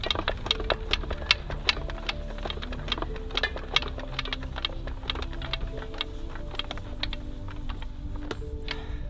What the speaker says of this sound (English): And then watch how easy this thing is to wind up. How fast you can wind it up.